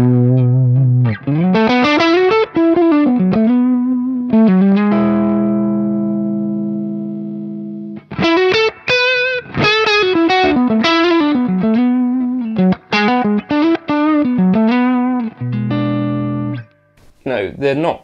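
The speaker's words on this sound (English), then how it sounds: "you're probably not used to hearing a rectifier with a Strat, but you've got loads and loads of gain on here" Stratocaster through a Mesa Boogie Road King rectifier amp at high gain, playing loud distorted riffs and ringing chords in short phrases separated by brief pauses, with one sustained chord fading out.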